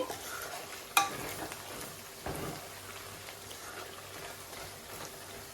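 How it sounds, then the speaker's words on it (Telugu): Ginger garlic paste frying in oil for chicken pickle gives a soft, steady sizzle and crackle, with a spoon knocking against the pan once or twice. "ఇట్లా మొత్తం ఆయిల్లోనే అల్లం వెల్లుల్లి పేస్ట్ అనేది ఫ్రై అయిపోవాలి"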